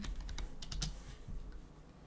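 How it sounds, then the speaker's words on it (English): Keys clatter on a computer keyboard in quick, irregular bursts of close, crisp clicks, with a short pause near the middle, no voices present. "press F2 on a keyboard and just name it"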